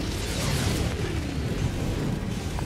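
Bombs thrown at a bug nest in Helldivers 2 set off a dense, rumbling wash of blasts that holds a loud, steady roar throughout.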